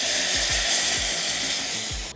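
A whisk scrapes rhythmically around a pan as stock is gradually added to a spiced roux, with regular strokes roughly every quarter second over a hiss of sizzling.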